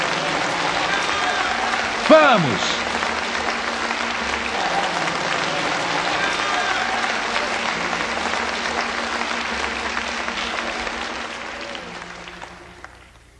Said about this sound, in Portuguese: Vamos, demos a Ele palmas.